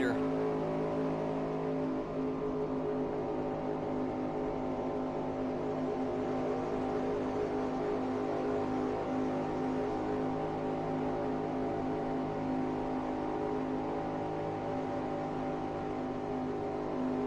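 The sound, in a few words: race car passing by, 1965 Permatex 300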